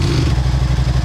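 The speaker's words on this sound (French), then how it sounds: "on va démarrer la moto" A motorcycle engine turns over and catches with a fast, chugging pulse. It is very close and loud, and the burst is brief.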